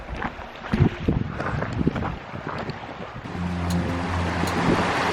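The Elbow River in Kananaskis Country in the Canadian Rockies rushes steadily, a broad continuous roar of water mixed with wind buffeting the microphone, plus a low droning hum in the second half.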